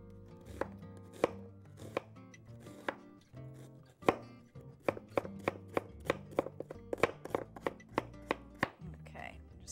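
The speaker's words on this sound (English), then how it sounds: "just give that another chop" Kitchen knife chopping food on a cutting board: crisp, close thuds, sparse at first, then speeding into a quick, steady run of chops.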